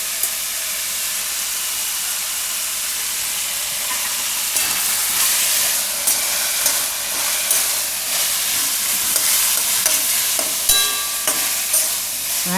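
Pumpkin pieces with salt and turmeric sizzle steadily in hot oil, a loud, continuous frying hiss with occasional scrape-and-clatter bursts of stirring, no talking.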